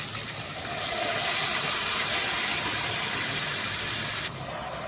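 Marinated chicken for a Golbari-style chicken kosha sizzles loudly after being poured slowly into a hot kadai, a steady bright hiss that swells in the first second and holds evenly before dropping slightly near the end, with no talking.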